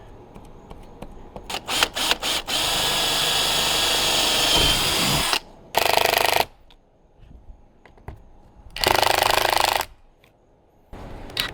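A power tool whines in bursts while driving screws into the metal body of a van, with a long steady run, then short separate spurts with quiet gaps between, close and loud.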